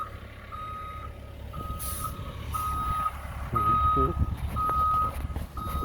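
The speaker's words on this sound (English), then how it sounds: "I think it's a dump truck full of topsoil." Dump truck reversing with a load of topsoil, backup beeper sounding in regular clear pulses over a rumbling diesel engine, with a hiss partway through and a voice talking faintly beneath.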